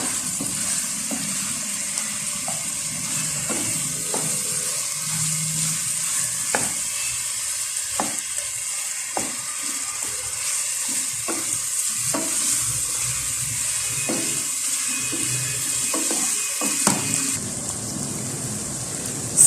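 Chicken jalfrezi frying over a medium flame: a steady, close sizzle runs throughout while a spoon scrapes and stirs the pan at irregular intervals.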